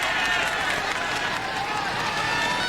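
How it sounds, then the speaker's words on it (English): Spectators line the route at the 1993 Paris-Roubaix cycling race, their steady, dense cheering and clamour filling the scene as a broadcast commentator talks over it. "A marvellous crowd has turned out for this first vantage point of the 1993 event"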